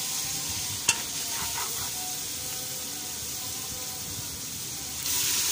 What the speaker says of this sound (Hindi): इस मसाले को थोड़ा सा पानी डाल डाल कर अच्छी तरह से भून लेंगे।